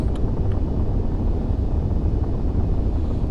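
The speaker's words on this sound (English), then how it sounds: "let's bump the engine up a little faster" Spaceship engine in the video game Starfield throttling up, a steady dense low rumble with wind-like noise that holds at a constant loud level throughout, no voices over it.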